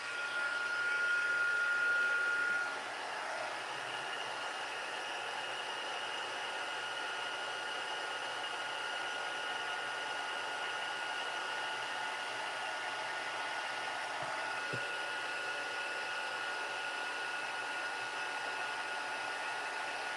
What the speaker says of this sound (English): I'm going to turn on the heat gun.